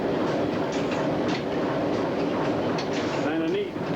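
A railroad locomotive train passes close by with a loud, continuous rumble and clattering wheels, and a faint wheel squeal near the end, while people talk underneath.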